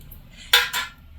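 Two quick, bright clinks come close together as a plastic MRE spoon is handled near the listener, both sharp and short against a quiet background.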